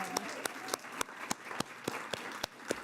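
A small gathering at a spiritual satsang claps for the musicians who just performed: sparse, evenly spaced hand claps ring out one after another, fairly close and clear, without a dense crowd roar.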